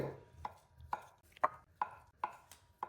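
A knife chops boiled potatoes on a cutting board in an even run of six or seven crisp, close knocks, with no talk.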